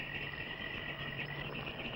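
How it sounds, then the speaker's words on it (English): Steady night-time insect chorus of crickets chirping continuously, a dense shimmering trill holding at a constant moderate level throughout with no talk. "Crickets got louder."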